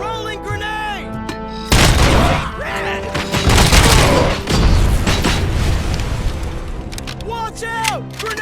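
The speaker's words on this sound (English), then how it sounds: "Rolling grenade!" A grenade goes off in the Robocop: Rogue City shooter game, a loud close boom followed by sustained gunfire and rumbling debris, with voices shouting before and after the blast.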